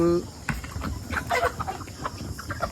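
Chickens clucking and murmuring close by in a continuous, busy chatter, with a few sharper calls standing out.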